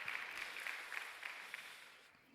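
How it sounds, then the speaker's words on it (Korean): Faint, distant applause from a church congregation at a Sunday youth worship service, a soft steady patter of many hands that thins out toward the end. "격려와 축복의 사랑의 박수로 함께 하겠습니다"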